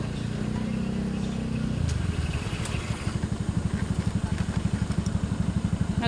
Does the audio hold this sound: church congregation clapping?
no